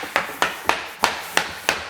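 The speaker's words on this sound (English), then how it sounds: "hit it with the plank hammer until it drops down." A plank hammer taps vinyl plank flooring into place beside kitchen cabinets, six sharp, evenly spaced knocks in quick succession, close and clear with no talking.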